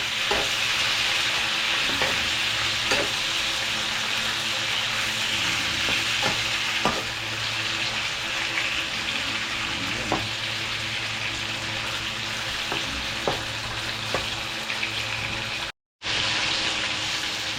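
Sugar-seasoned, barbecue-style food fries and hisses in a pan under constant stirring, the utensil tapping and scraping at irregular intervals over a continuous close sizzle that cuts out briefly near the end.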